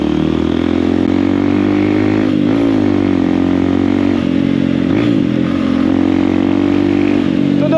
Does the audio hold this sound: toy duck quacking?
no